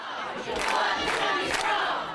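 A large crowd of teachers shouts and cheers together in a loud, sustained roar with rhythmic swells, at a pension rally in Frankfort.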